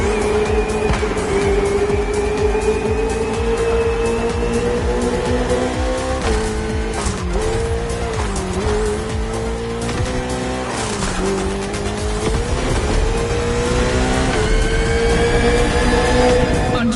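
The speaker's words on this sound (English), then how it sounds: "the KTM RC16 takes on the Ferrari 488 GT3" A KTM RC16 races a Ferrari 488 GT3 on a circuit in The Crew Motorfest, with loud, close engines whining and climbing through repeated gear shifts and tires squealing, continuous throughout.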